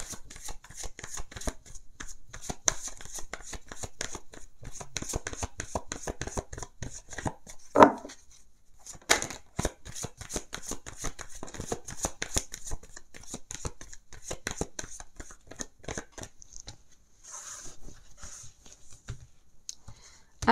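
Lenormand oracle cards being shuffled for a card reading, a continuous rapid patter of card riffles and slaps close by, steady for about twenty seconds with one sharper knock partway through and no talking.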